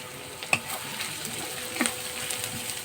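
Soft, continuous frying sizzle of chopped onion and carrot in a pan for veg manchurian, with a couple of light clinks from a utensil nearby.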